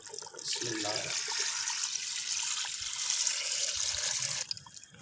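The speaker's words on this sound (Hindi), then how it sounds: "पानी लिया है जो मैं इसके अंदर पाए के अंदर शामिल करने लगा।" Roughly two to two and a half litres of water pour steadily into a pressure cooker holding beef paya (trotters) for about four seconds: a continuous, close, splashing gush that then cuts off.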